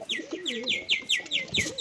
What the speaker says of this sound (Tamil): புறா பாருங்க ஃப்ரெண்ட்ஸ்